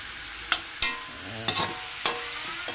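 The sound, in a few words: stirring ginataan of banana blossom and papaya in pot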